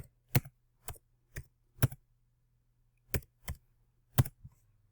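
Keys on a computer keyboard click in sparse, irregular taps, quiet and close, with a faint hum underneath.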